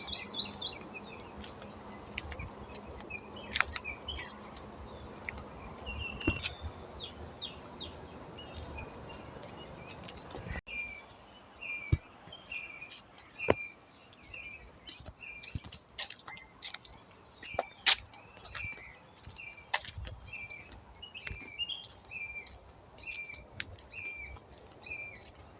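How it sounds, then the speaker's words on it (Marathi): Birds chirp and call repeatedly in a forest by a river at sunset, with a steady insect trill like crickets underneath; the calls are clear and moderately near, occasional sharp ticks break through, and no one speaks. "पक्ष्यांचे आवाज"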